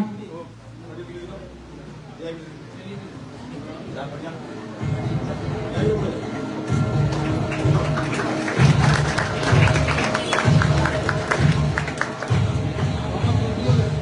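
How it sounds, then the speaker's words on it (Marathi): A crowd at a student honours ceremony run by a Shiv Sena branch and Samarth Foundation claps for student Yuvraj Mahendra Jadhav; the clapping swells after a few seconds into a steady, dense patter with voices mixed in. "युवराज महेंद्र जाधव युवराजसाठी जरा जोरदार टाळ्या वाजवा।"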